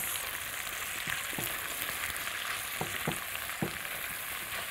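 Onions frying in a pan give a loud, steady sizzle, with a few soft scraping knocks as they are stirred and no talking.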